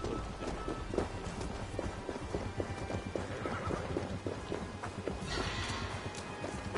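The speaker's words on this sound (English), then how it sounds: "Horse, get back here." Galloping horse hooves clatter in steady rapid clip-clops in the Assassin's Creed Valhalla video game, joined by a neigh near the end, with continuous rhythmic hoofbeats throughout and no talking.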